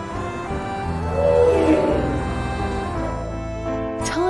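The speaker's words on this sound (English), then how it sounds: "Tiger." A tiger lets out a loud, close roar that swells and fades over a few seconds, followed by a short rising growl.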